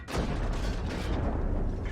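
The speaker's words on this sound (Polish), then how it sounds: "Strzał, który normalnie by się zrykoszetował" A single heavy tank cannon blast from the video game World of Tanks booms loudly and close, followed by a rumbling roar that lingers and slowly decays.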